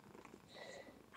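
A sleeping cat purrs softly and continuously, a faint low rumbling close by with no other sounds.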